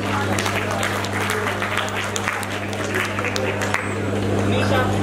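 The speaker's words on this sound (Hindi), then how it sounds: "जोरदार तालियां प्लीज।" Audience applause at the Rajasthan Film Festival at Amity University, Jaipur: a loud, dense crowd clapping over a constant low hum, with some crowd babble mixed in.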